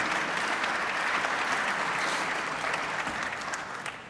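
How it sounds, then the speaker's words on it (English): Audience applause at a user conference day, steady broadband clapping across the whole stretch that thins slightly toward the end, with no talking. "Round of applause,"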